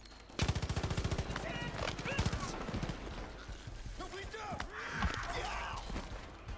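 Gunfire in the video game Far Cry 5, a loud rapid machine-gun burst at the start followed by scattered shots and mechanical clatter amid game sound effects, with a voice talking over part of it.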